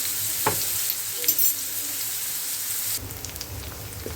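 Onion and ginger-garlic paste fry in a pan with a steady, close sizzle, a few light clinks of a utensil, and a slightly brighter crackle toward the end.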